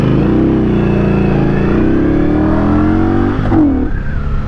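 A custom Scout Bobber motorcycle engine on a Dynojet remote tune revs hard under throttle, a loud, continuous close-up roar that climbs steadily in pitch before a brief dip and surge near the end.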